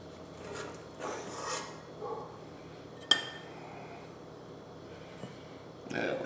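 A spoon scoops cooked rice onto a plate for chicken sauce piquant, making soft scraping rasps, a single sharp clink against the dish midway and one more scrape at the end, close up, with no talking.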